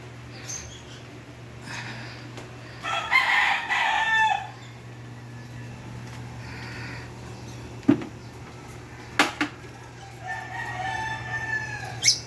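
A rooster crows nearby while chickens cluck intermittently over a low background hum.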